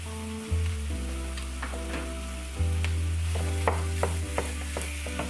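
Ground meat sizzles and crackles steadily in a pan, with tonal clinks and scrapes from stirring layered over the frying hiss.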